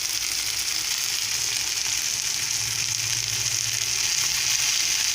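Fish frying on a pan over a low flame, a continuous close, even sizzle and crackle holding steady throughout with no voices.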